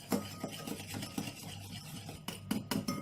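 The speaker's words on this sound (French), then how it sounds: "Là, je mélange bien." Sugar being stirred into a chocolate mousse mixture, a spoon scraping and rubbing against the bowl in repeated strokes, some sharper taps standing out, fairly quiet and close with no talking.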